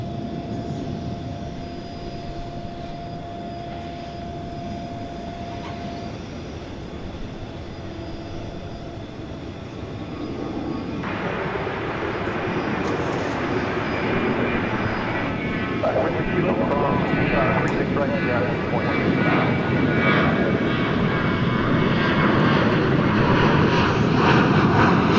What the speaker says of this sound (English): This is American Airlines Flight 2499, an Airbus A321, off to the Texas capital of Austin